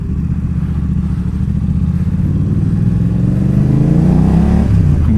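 A BMW F900R motorcycle's parallel-twin engine revs up steadily at close range, its loud, throbbing rumble rising in pitch toward the end with no talk over it.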